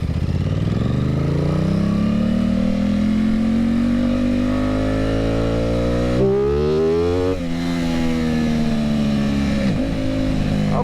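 An Aprilia Tuono 660 fitted with an eBay exhaust pulls hard under load, its engine note climbing steadily through a long loud run, then dropping off with faint popping on deceleration.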